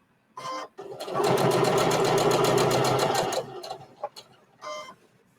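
A home sewing machine runs steadily for about two seconds while stitching fabric for a small pin cushion and scissor holder. The close, rapid mechanical whir starts and stops cleanly, with brief quiet clicks before and after.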